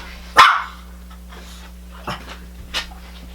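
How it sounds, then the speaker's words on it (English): A dog indoors gives one sharp, close bark followed by a couple of softer huffs and small noises, over a low steady room hum. "Oh, my other dog is in here."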